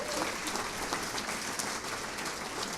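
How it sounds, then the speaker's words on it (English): A college award ceremony audience applauds, a dense, even wash of clapping at moderate level sustained throughout without speech. "You can applaud that."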